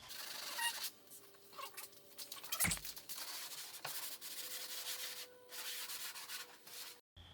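A kayak hull is hand-sanded before a JB Weld leak repair, with short bursts of scratchy rubbing strokes separated by brief pauses, close and fairly quiet, including one sharper scrape partway through.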